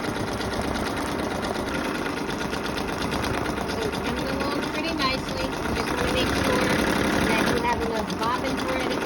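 An embroidery machine stitching a colorful design onto a pair of jeans runs with a fast, even mechanical chatter, steady and close throughout, with a voice talking over it.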